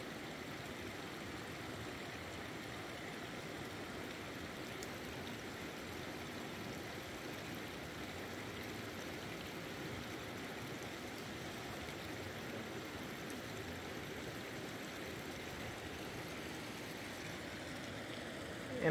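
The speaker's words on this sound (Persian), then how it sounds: "این آب زیبا آرامش دهنده واقعا جای زیباست" Water from a mountain stream rushes steadily and evenly, a constant broadband wash that holds at the same level for the whole stretch, with no voices on top.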